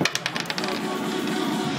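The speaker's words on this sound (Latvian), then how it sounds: "Uzmet no diviem kauliņiem ciparu" Two dice thrown onto a surface during a bar drinking game, a quick rattle of clicking impacts at the start that settles into a steady background hum, with no talking.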